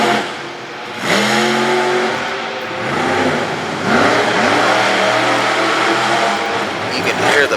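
Racing vehicle engine revving hard at Motor Mile Speedway in Radford, Virginia, loud and close, with repeated rising throttle sweeps and brief dips, under a commentator's talk.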